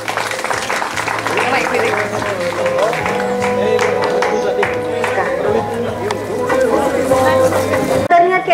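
Applause from an audience at a high school alumni reunion, steady clapping that carries on for several seconds while someone speaks over it.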